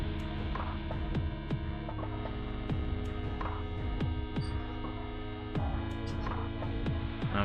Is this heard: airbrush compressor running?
yes